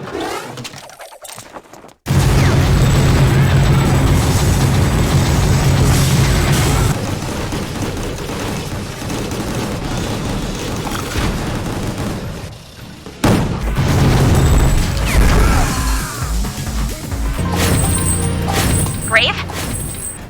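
Heavy gunfire and booming blasts from the Death Hauler weapon in the PS2 game Gungrave, a dense, loud, continuous barrage with repeated impacts and crashes over a game soundtrack, briefly cutting to near-silence at the start.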